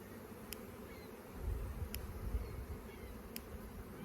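Queenless honeybees hum agitatedly inside an opened hive, a faint continuous drone with low rumbling handling noise and a few soft periodic clicks.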